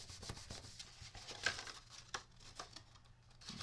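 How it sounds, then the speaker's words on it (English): Glued paper box tab being rubbed down by hand to press the seal, giving soft, close, faint papery scuffing and crinkling strokes, with quiet irregular swishes and no speech. "We're just going to give it a good rub."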